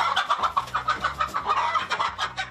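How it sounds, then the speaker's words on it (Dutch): Chickens on a young farmer's chicken farm cluck steadily in a close, busy chorus of repeated short calls, with no talking. "Soms heeft Vin wel eens geen zin om zijn kippen te verzorgen."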